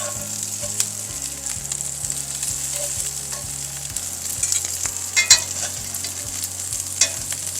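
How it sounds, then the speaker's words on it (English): Homemade meatballs browning in a hot pan give a loud, steady sizzle and frying crackle, broken by tongs scraping underneath and flipping them over, with sharp clinks and scrapes against the pan close by. "I like to use my tongs to scrape it up underneath it, just to make sure it doesn't fall apart if it is sticking."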